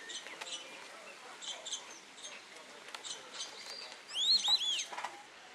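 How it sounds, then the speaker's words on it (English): Faint bird calls from a Cape teal duck at a wildlife park, brief chirping whistles bunching into a louder cluster near the end over quiet background murmur. "And that's a Cape teal."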